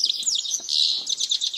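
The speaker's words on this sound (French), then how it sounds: "C'est un chardonneret sauvage. Écoutez comme il trille." A wild goldfinch sings outdoors, a bright, rapid trilling song of twittering notes and fast variations, close and clear, with no voices.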